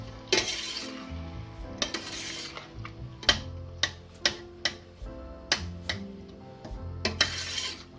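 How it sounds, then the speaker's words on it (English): Tomatoes, ginger and garlic cook in a pan while a spoon stirs them, with a run of sharp taps and scrapes against the pan over a soft sizzle, close and with no voices. "Give that a stir."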